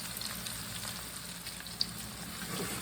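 Swedish meatballs fry in a skillet over medium heat, giving a steady, quiet sizzle and crackle with a single brief pop, close and without talk.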